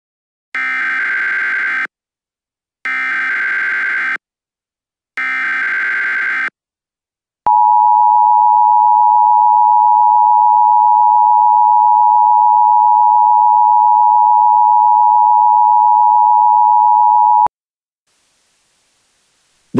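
Emergency Alert System tones for a nuclear attack scenario: three loud bursts of harsh digital data noise, then a steady piercing attention tone held for about ten seconds, ending abruptly with faint hiss after.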